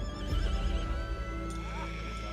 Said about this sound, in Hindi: ठाकुर को एक घोड़ी की दर्द भरी आवाज सुनाई दी